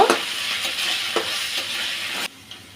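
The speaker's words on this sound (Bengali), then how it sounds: "এখন দিয়ে দেব আদা রসুন বাটা। এগুলো দিয়ে আবার একটু কাঁচা গন্ধটা যাওয়া পর্যন্ত ভেজে নেব" Ginger-garlic paste frying in a pan, a steady broadband sizzle with a few stirring scrapes, close and fairly loud, cutting off abruptly near the end.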